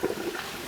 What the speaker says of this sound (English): so when we flush it